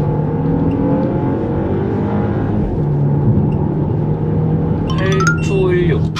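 A BMW X2 20i petrol-turbo all-wheel-drive SUV accelerating hard in sport mode, its engine droning and rising in pitch with gear shifts, loud and continuous from inside the cabin, with a brief higher whine near the end.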